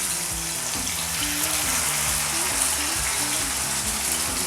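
Mackerel frying in hot oil on a dosa pan, a dense, continuous crackling sizzle that stays loud and close throughout with faint low rumbling beneath.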